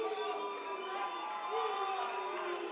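A boxing crowd jeers after a fight, and a steady, dense roar of boos and shouting voices fills the arena throughout.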